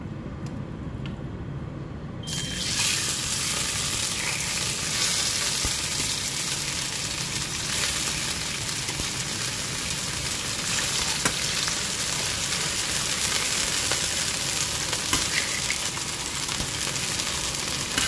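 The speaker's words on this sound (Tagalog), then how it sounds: "So iprito muna natin siya kunti guys. Yung chicken." Marinated chicken pieces fry in a pan with a steady, loud, dense sizzle that swells in after a brief quieter start and continues unbroken, with no voices.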